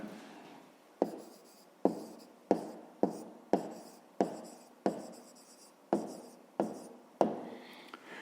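A pen writes out an answer to a fifth-grade maths exercise, giving a steady series of about a dozen sharp taps and short scratching strokes, close and fairly quiet, with no talking.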